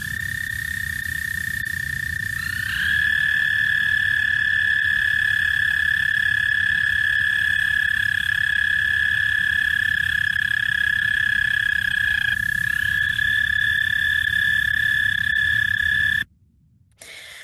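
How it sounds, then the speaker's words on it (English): An American toad gives a long, sustained, high musical trill, loud and close, held steadily for many seconds over a low background rumble before cutting off abruptly near the end. "So they're American toad, most common toad, 2 to 4 inches."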